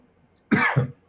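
A person coughs twice in quick succession during a Magic: The Gathering Premodern match, a short, close, raspy double cough that stands alone against near silence.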